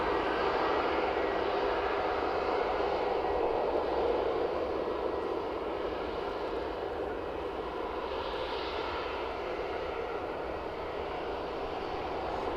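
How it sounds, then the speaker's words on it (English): Sun Express airliner approaching the runway at Manchester Airport, a broad steady roar of jet engines at moderate distance, swelling slightly and holding constant with no voices over it. "Sun Express approaching the runway."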